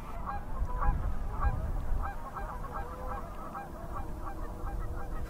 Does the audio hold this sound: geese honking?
yes